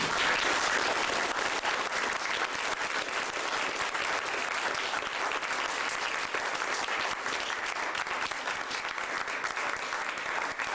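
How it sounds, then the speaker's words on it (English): An audience applauds Eric's Eagle Scout award at a ceremony, with sustained, even clapping from many hands continuing throughout. "Let's give Eric a round of applause"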